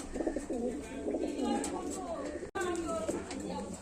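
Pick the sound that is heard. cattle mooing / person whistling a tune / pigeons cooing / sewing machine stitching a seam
pigeons cooing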